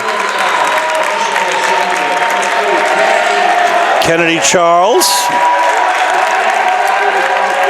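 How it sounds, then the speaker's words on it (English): A crowd claps at a Portland High versus Deering varsity boys' basketball game, with dense, steady applause throughout. A commentator talks over it, and a few sharp squeaky tones cut in midway. "gets a nice hand from the crowd"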